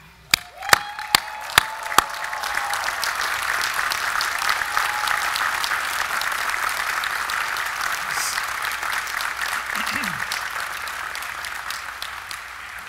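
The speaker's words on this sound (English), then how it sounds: "join me in thanking your support team with a round of applause" A large crowd applauds at Carnegie Mellon University's 118th commencement, opening with a few sharp, separate claps before swelling into sustained, dense clapping that holds steady for over ten seconds in a big venue.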